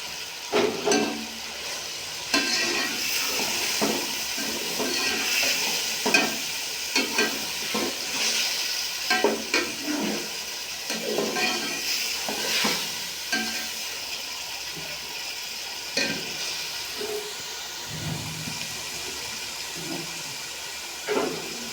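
Tomatoes sizzle in hot biryani masala of ginger-garlic paste and green chilies, a steady frying hiss broken by repeated scrapes and knocks of stirring, close up and continuous.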